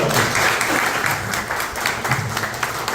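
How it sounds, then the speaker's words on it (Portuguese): An audience at a book launch gives a round of applause, steady dense clapping from a roomful of people at close range, continuing evenly for the whole stretch. "Eu queria ter uma salva de palmas para o Adalto Nogueira"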